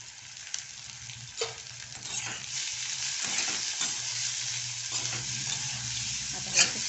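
Chopped onion sautéing in a pan over a full-flame gas burner, a steady broadband sizzle with occasional spoon scrapes and stirring clatter, close and continuous, no talking.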